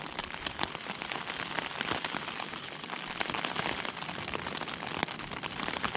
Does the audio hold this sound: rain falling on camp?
yes